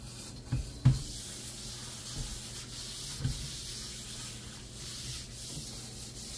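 A wok is scrubbed on the inside up to the rim while being seasoned on an electric stove, giving a steady soft abrasive rubbing with a few louder scraping knocks, close and alone without speech.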